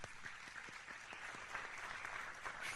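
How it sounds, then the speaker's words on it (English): An audience claps at an agency honor awards ceremony: a continuous, moderately quiet patter of many hands with a few sharper individual claps rising out of it, heard at some distance and steady throughout. "That's another round of applause there for"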